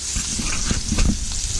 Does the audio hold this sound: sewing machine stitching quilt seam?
no